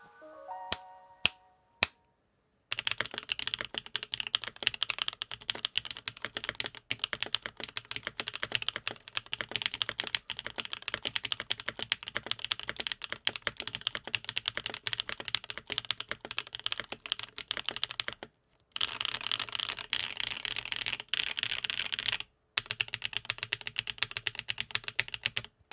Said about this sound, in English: Take a listen to the build with lubed durock anubis switches on the FR4 plate.